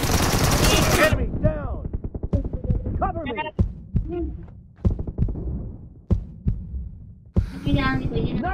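Gunfire during a PUBG team deathmatch: sharp single shots crack out one after another at irregular intervals, loud and close, with bursts of game noise at the start and end.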